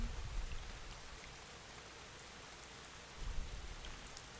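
Steady rain hisses in the rainy game world of Drizzlepath: Genie, a dense, even wash of falling drops with a couple of faint low rumbles, no voices over it.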